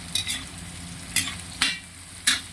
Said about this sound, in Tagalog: Imimekos-mekos na natin yung ating taba